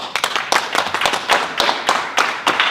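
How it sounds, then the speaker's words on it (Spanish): One person claps hands at the end of a talk, giving a string of sharp, close, fairly even claps in a quick rhythm with brief gaps. "Ahora soy yo el que os da el aplauso."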